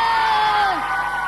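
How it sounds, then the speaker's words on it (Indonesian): Students at SMK Bhakti Karya Karanganyar cheer loudly in a brief, close burst of crowd whoops and shouts. "Tepuk tangan untuk anak-anak kan."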